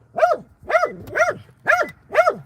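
Five loud, close barks from a dog at a door, evenly spaced and shrill, with no talking.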